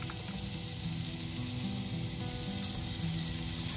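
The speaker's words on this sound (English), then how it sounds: "Pour 2 tablespoons of olive oil into the same pot. Use medium-high heat. Add onion to fry until fragrant." Onion frying in olive oil in a pot over medium-high heat, a steady close crackling sizzle with a faint low hum underneath and no voices.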